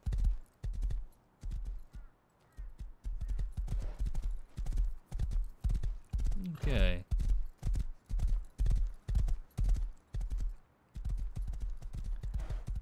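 Horse hooves clip-clop steadily at a trotting rhythm in the survival game Rust, loud and close, with brief pauses and a whinny midway, while someone talks over the hoofbeats.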